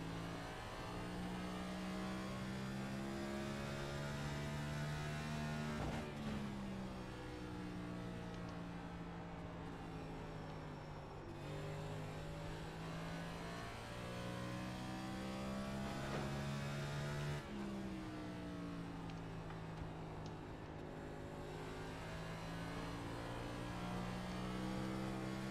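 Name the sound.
race car engine in a racing video game at Richmond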